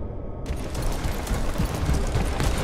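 Sustained automatic gunfire in the video game Crysis 3, a dense, continuous rattle of rapid shots with heavy low-end thump, loud and unbroken throughout.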